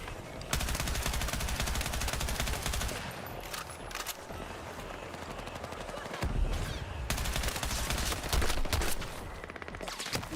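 Sustained automatic gunfire in the Battlefield 6 video game, loud rapid bursts running almost continuously with a brief lull in the middle, close and dense.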